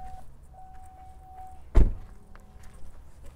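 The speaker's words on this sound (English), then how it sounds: "So if I pop the door," A Cadillac's door pops open with a single sharp, close thunk midway, surrounded by faint quiet background and a soft electronic tone.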